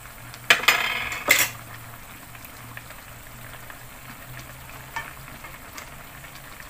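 Shrimp go into a simmering pot of seafood rice with a couple of sharp clattering splashes and scrapes, then a soft, steady bubbling and faint sizzle continues quietly, with occasional light utensil taps.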